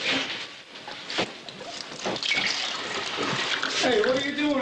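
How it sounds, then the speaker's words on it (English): Liquor poured down a sink drain, a sustained splashing, gurgling stream of liquid with a trickling, bubbling finish, accompanied by background voices. "I'm dumping this poison down the sink"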